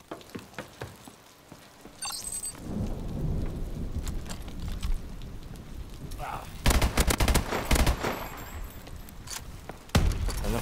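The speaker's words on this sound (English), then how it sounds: "Firing off more grenades, really" Grenades fired in Call of Duty: Advanced Warfare, with a run of loud booming blasts and rumbling explosions clustered together in the second half, close and heavy over a rain-like background roar.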